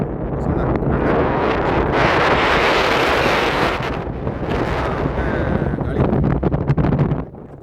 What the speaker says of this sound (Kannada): ಗಾಳಿ ಅಂದರೆ AC ಗಿಂತ ಡಬಲ್ ಗಾಳಿ.